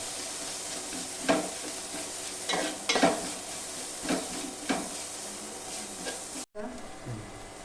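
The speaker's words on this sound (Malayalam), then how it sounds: "അപ്പോൾ ഇനി ഇഞ്ചിയും വെളുത്തുള്ളി കുരുമുളകും ചതച്ചത് നമ്മൾ ചേർക്കുന്നുണ്ട്." Crushed ginger, garlic and pepper frying in a pan for a homestyle mussel roast, a steady sizzle with several stirring scrapes and clinks, briefly cut off near the end.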